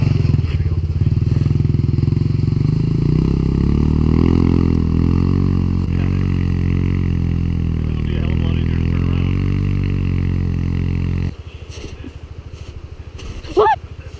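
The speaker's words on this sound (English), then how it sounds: "How many people have ridden a Brozz 250 in the snow?" A Bashan Brozz 250 dual sport motorcycle revs and rides through snow, its single-cylinder engine loud and close, rising and falling through throttle changes before dropping to a lumpy idle near the end.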